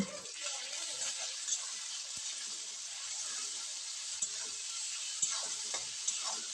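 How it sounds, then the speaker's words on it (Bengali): Tomatoes, salt and spices for a rui fish curry with peas sautéing over medium flame, a steady soft hiss of frying with a few faint stirring clicks, fairly quiet and close. "সব কিছুকে বেশ ভালোভাবে কষিয়ে নেব মিনিট তিন সময় ধরে"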